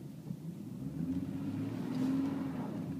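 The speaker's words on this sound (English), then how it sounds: "when I push the pedal down, the one wheel is just going to start slipping" A car with traction control switched off, throttle held at about an eighth to a quarter so one wheel spins, gives a steady low engine drone and rumble that swells slightly midway, with no talk.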